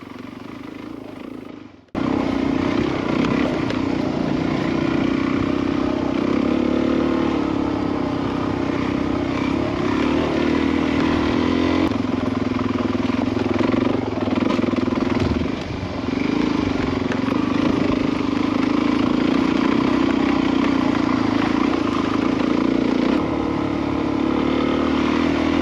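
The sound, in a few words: motorcycle engine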